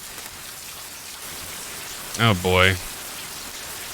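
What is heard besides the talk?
rain in Cyberpunk: Edgerunners anime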